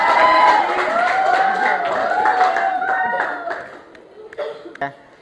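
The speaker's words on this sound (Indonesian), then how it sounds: "Kasih tepuk tangan" Classroom applause after student presentations, a group of people clapping steadily with voices and light laughter mixed in, the clapping fading out toward the end.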